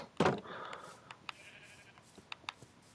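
A sheep in the Minecraft video game gives a loud, close bleat near the start, followed by softer game noises and a few faint clicks.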